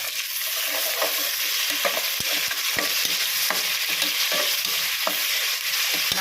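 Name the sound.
rice mixture stirred with a ladle in a pot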